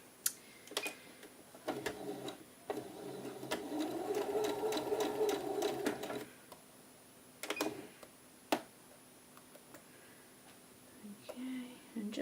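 A sewing machine stitches along the edge of a blouse front in short runs of rapid mechanical whirring and clicking, close by, with pauses, sharp taps and a soft voice between runs.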